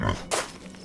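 Pigs in the farming video game Farm Together: a brief low grunting oink followed by a short snorting burst, close and moderately loud, alone.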